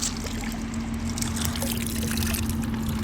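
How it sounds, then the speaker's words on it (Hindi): Water being drawn from a stepwell, a soft continuous trickle and dribble of water over a steady low hum, with faint clinks and splashes here and there. "अब मैं यहाँ पे पानी भरने आई हूँ, आपको दिखाऊं। ये बाई है"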